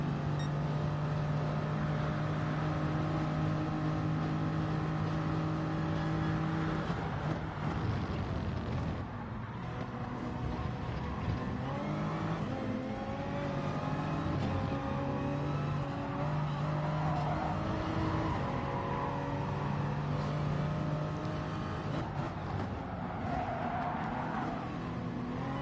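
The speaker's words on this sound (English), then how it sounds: "Looks like that BMW has some good torque coming out of the corner there." A BMW race car engine in a racing video game, FIA Manufacturer's Cup on Sardegna Track B, drones steadily as it powers out of a corner. The tone shifts as it accelerates, with other cars roaring nearby throughout.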